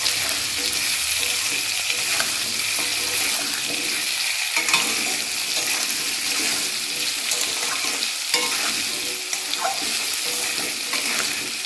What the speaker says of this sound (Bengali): আর একটু সামান্য করে নুন দিয়ে ভালো করে আলুটাকে ভেজে নিয়ে নিলাম।